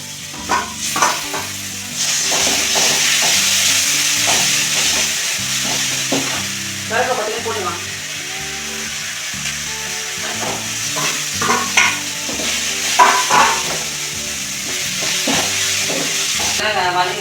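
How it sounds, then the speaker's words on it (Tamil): Onions with salt sautéing in a pan, frying with a continuous sizzle while a spoon scrapes and stirs in repeated bursts, close and fairly loud. "வெங்காயம் நல்லா வதங்கிடுச்சு"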